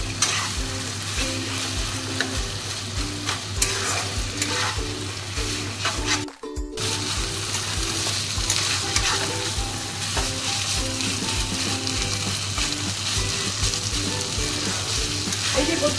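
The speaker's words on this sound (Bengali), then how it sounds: "এটা আর একটু কষালেই হয়ে যাবে।" Taro greens (kochu shak) with hilsa fish head being sautéed in a pan with steady, continuous sizzling and frying, with occasional stirring scrapes throughout and a brief pause partway through.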